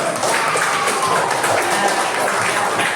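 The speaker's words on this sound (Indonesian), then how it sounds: "Tepuk tangan dulu." Classroom applause for the winners, a brief dense patter of many hands clapping, close and steady, with no talk over it.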